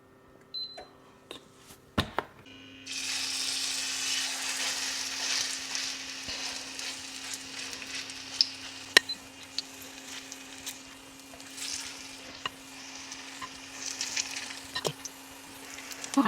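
Vegetables stir-frying in a pan with olive oil and dark soy sauce, a steady close sizzle that starts abruptly after a few quiet knocks, broken by occasional scrapes and clicks of stirring.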